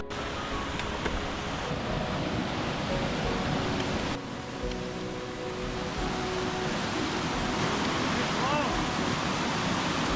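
A large waterfall in the Northern Pickets mountains roars as a steady, dense wash of white noise that fills the whole stretch without pause, with only a brief dip partway through.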